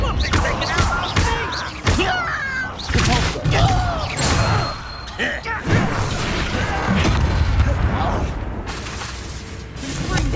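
In Hogwarts Legacy combat, the Confringo blast spell sets off heavy thuds and booming impacts, several bursts scattered irregularly among clattering effects, with a voice talking over parts of it.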